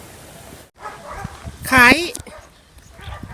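Dogs bark and yip at close range in a Thai village setting, one sharp high bark standing out among shorter yelps, mixed with people talking over them.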